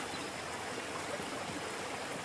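Flowing water in The Anointed: David Saves Keilah video game, a constant hissing stream-like rush that holds at an even level, with no one speaking over it.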